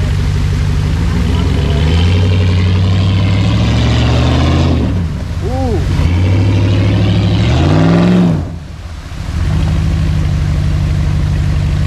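A 4x4 off-road vehicle's engine roars loudly and steadily as it climbs a rough line, with revs rising and falling and one brief dip in power partway through.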